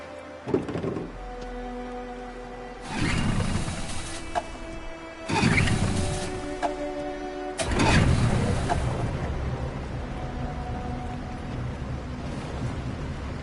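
A boat engine in the video game Detroit: Become Human cranks in loud rumbling bursts, then catches and settles into a steady, throbbing roar.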